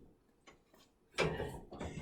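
A small vise being clamped and locked down onto a post of a workbench with drawers makes a few faint mechanical clicks and then a louder scraping, ratcheting rasp near the end, with no talking.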